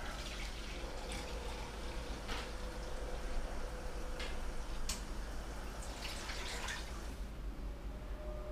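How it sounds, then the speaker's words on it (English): A gallon of water pours into a container for brining a whole chicken, a steady, close splashing and hissing stream with occasional brighter drips, running continuously without speech. "we're going to get a gallon of water in here"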